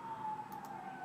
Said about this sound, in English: Hey, there's sirens.